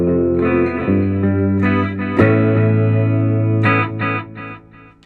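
Clean electric guitar through a Positive Grid Spark 40 amp with modulation, delay and reverb stacked, playing sustained chords and single notes with shimmering, echoing tails, loud and close, fading toward the end.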